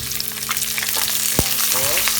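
Garlic frying in hot oil for sweet and sour tuna, a dense, steady crackling sizzle close by with a brief utensil clink partway through.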